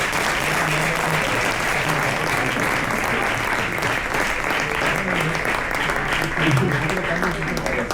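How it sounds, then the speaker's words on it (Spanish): Sustained, loud audience applause fills the whole stretch at a live music event, ImaginArte 2025 in Geldo, Castellón, with a dense steady wash of many hands clapping and crowd noise beneath. "les vamos a dar un fuerte aplauso para animarles"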